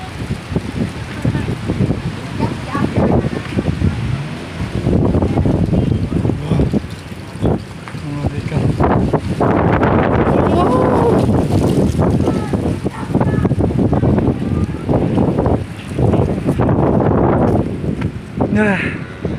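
Strong wind gusting across the open highlands at Kintamani, Bali, roaring and buffeting the microphone in loud, uneven surges throughout, with people talking underneath.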